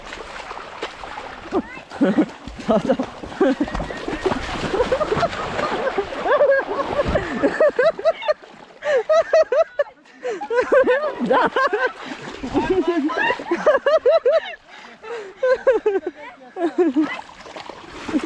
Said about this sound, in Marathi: माझ्यावर पाणी उडवते